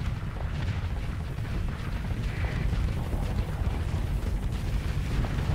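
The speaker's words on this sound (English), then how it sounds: "How are we still being fired up by this missile launcher?" In the space combat game Starsector, missile launchers fire and warheads explode in a continuous dense rumble of overlapping booms and hissing launches, steady and fairly muffled throughout.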